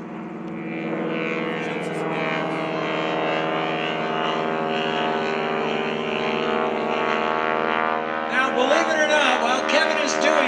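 A propeller aerobatic plane performs at the 2011 Greenwood Lake Airshow, its engine droning steadily and loudly with a rising, straining whine near the end as the prop stays at full RPM.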